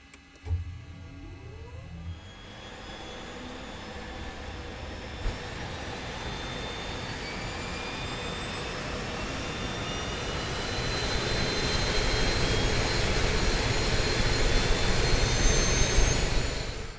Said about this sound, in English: let's actually just start up the engines